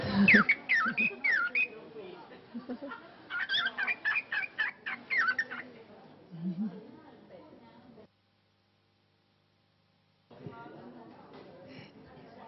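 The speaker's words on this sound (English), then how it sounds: "Let's get a Yeah. couple bird samples." Recorded bird calls play back as bursts of warbling, whistled chirps and squawks in quick sequences, clear and fairly close, broken by a silent gap before more calls.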